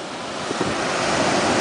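Ocean waves washing onto a beach, a steady broadband surf roar with wind noise buffeting the microphone throughout the short stretch, no voices.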